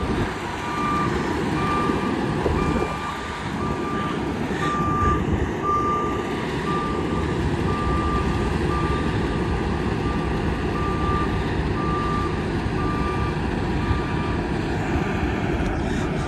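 A waste management truck's reversing alarm beeps steadily in a regular, repeating pattern over a loud, continuous diesel engine rumble close by, with no talking.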